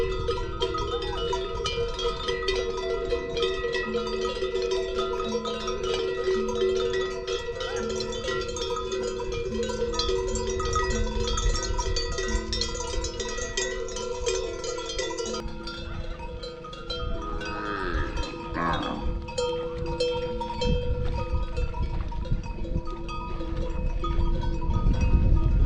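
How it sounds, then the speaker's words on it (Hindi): Bells and larger gongs hanging from the necks of herd animals in the Cholistan desert of Pakistan clink and jangle continuously at varying pitches, layered and moderately close, with no talking. "ये घंटियों की आवाज़ चोलिस्तान की सबसे मीठी आवाज़ है, जो इन जानवरों के गलों में लगी हुई घंटियों और घड़ियालों से आ रही है"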